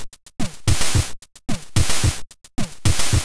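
An 8-bit chiptune drum beat programmed in Online Sequencer, loud noisy snare bursts and low thumping kicks repeating in a looping pattern about every second, broken by short gaps.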